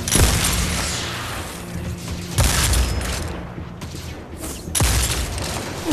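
Gunfire from a weapon in Destiny 2 cracks in three loud bursts at roughly two-second spacing, each a sharp hit trailing into rumbling battle noise.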